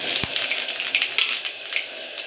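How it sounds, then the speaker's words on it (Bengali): Nigella seeds dropped into hot oil in a pan for a fish curry tempering, giving a brief, bright crackling sizzle with sharp pops that settles into a softer hiss. "এবার আমি তেলের মধ্যে দিয়ে দেবো কালো জিরা ফোড়ন"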